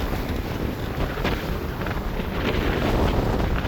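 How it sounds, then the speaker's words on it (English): Steady roaring wind of 22 knots gusting to 25 buffets the microphone, a continuous broadband rush with slight gusts swelling toward the end, no voices. "22 knots of wind, gusting up to 25"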